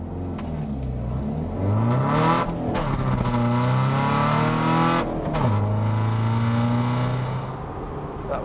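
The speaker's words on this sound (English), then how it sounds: "Exhaust on this is just awful. Can't be dealing with that noise." A tuned 263bhp 1.6 TDI car with a noisy exhaust accelerates hard through the gears, the engine note climbing in rising sweeps that break at each gear change, loud and close throughout.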